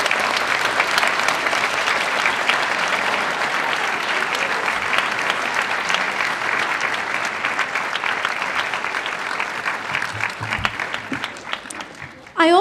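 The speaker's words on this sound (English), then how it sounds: "Give a nice round of applause to very hardworking Mrs." An audience at an elementary school first-grade event gives a long, loud round of applause, a dense continuous clapping that tapers slightly near the end before a brief voice cuts in.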